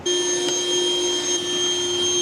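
A vacuum cleaner runs continuously with a steady, high-pitched whine and even drone as it picks up debris after a plastic shutter installation on a house.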